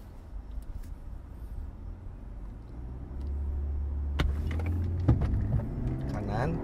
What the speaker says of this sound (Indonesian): Dan saya akan full throttle karena ini dilombakan waktunya.